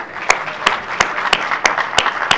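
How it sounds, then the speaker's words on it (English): Sparse, hollow claps from a small audience at a Collaborate 2025 event greet two guests, a handful of sharp distinct slaps spaced roughly every third of a second over a faint murmur of background clapping. "Let's give them a round of applause."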